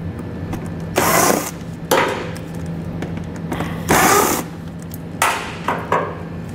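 A hand ratchet with a 5.5mm socket works loose the bottom screws under a 2021 Lincoln Nautilus during a trailer hitch install. Several close bursts of clicking ratchet strokes are separated by short pauses, with no talking.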